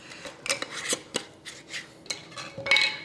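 Lids being twisted tight onto glass jars of spice cake, a quick series of close metallic clicks and scrapes over a few seconds, with no talking.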